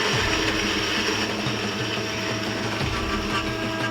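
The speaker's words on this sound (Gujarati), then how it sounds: "ફરાળી જે કેવડો આવે છે એને આપણે મિક્સરમાં ક્રશ કરી દઈશું." A kitchen mixer grinder crushes farali flour for kachori filling, a loud, steady whirring motor drone that runs continuously without pause and with no talk.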